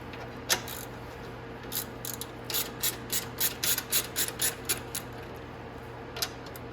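A ratchet with an 8mm socket clicks steadily while tightening bolts on a 125cc mini jeep, a close run of quick metallic ticks that speeds up in the middle and then trails off, with no talking.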